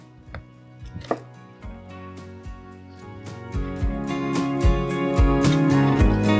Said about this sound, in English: Now you can cut the turkey in a lot of different ways.